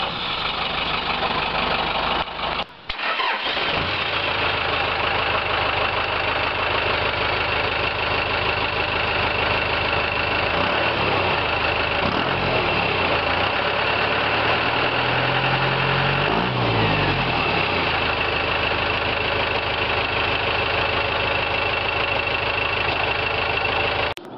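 A 4-cylinder Cummins diesel in a Blazer cranks briefly, catches and settles into a steady, loud, close idle with a faint knock, running unbroken to the end.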